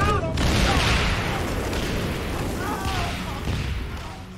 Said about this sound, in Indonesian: Sedangkan di atas kini tembakan sudah berbunyi.